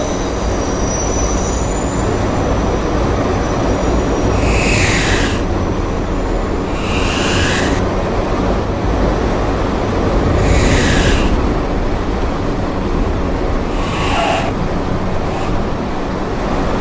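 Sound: R160C subway train running on the line

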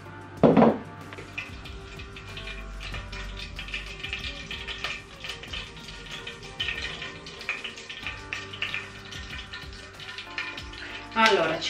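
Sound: cooking pot being handled in kitchen

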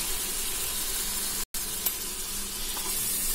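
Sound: tomato pieces sizzling in pan for goat head curry

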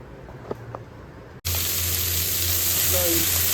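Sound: onion and capsicum frying in a kadai

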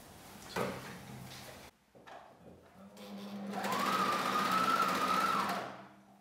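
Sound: sewing machine sewing boxer brief fabric

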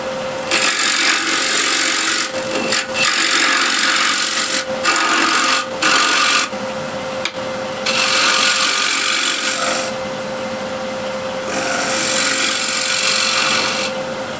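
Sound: wood turning a bowl with gouge and scraper

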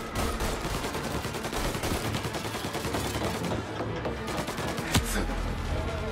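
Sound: gunfire in video game Mafia Definitive Edition

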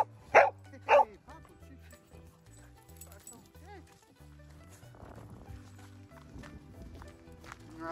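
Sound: small dogs barking

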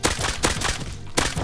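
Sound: nail gun shots in video game Rust

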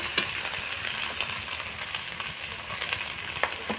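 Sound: stirring hilsa fish in mustard paste in a frying pan

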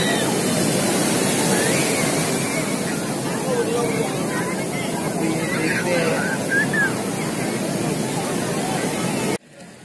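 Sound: waves and wind at Digha beach

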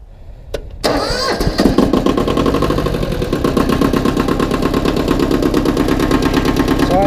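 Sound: diesel engine starting and running after glow plugs

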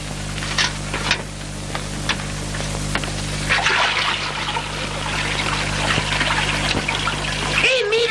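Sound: water being poured out while washing

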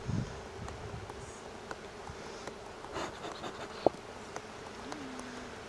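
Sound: honey bees buzzing at an opened hive

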